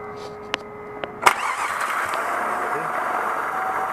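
A car's starter motor cranking and the engine catching: a few short clicks and a sharp crank burst, then a steady running engine hum close by, with no talking over it.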